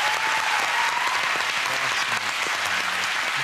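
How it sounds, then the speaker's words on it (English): Studio audience on a British TV quiz show breaks into applause, a dense, steady burst of clapping heard on its own for a few seconds. "A round of applause."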